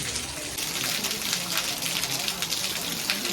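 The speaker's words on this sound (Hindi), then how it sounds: "इस समय बहुत तेज़ बारिश हो रही है" Heavy rain in Nainital, a steady dense hiss of falling water and splashing on surfaces, loud and continuous for the whole stretch.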